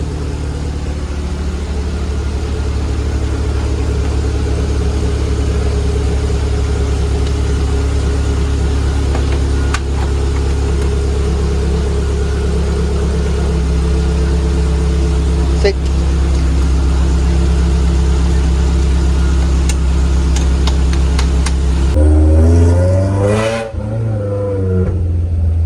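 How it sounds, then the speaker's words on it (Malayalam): A car engine catches and settles into a steady, loud idle in heavy rain, with the hum continuing evenly and a brief rise in revs near the end. "അങ്ങനെ സ്റ്റാർട്ടായി."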